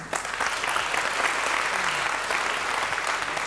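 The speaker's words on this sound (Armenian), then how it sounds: "Ծափարում ենք։" An audience bursts into warm, dense applause that continues evenly at a fairly close distance for a few seconds.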